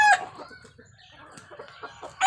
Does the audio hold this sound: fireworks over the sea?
no